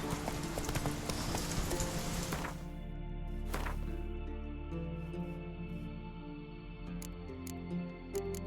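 Roach the horse gallops in The Witcher 3 video game, its rapid clip-clop hoofbeats loud and dense at first, then easing into a lighter rhythm under sustained background tones.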